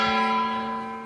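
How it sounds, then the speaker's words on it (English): A gong is struck as an instrument for Chinese dragon dance music, giving one sustained metallic tone that rings with steady overtones and slowly fades, heard alone with no voices. "what about the gong?"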